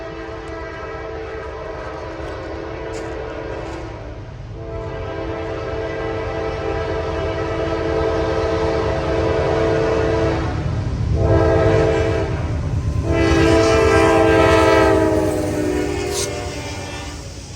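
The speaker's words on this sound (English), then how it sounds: "here comes a northbound intermodal to prove it" A northbound intermodal freight train rolls loudly through a sharp curve on active track, its horn sounding in long sustained blasts over the steady rumble of wheels and cars, building louder toward the end.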